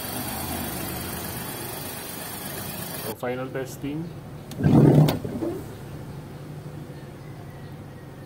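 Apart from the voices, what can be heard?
Hyundai Eon car engine started and running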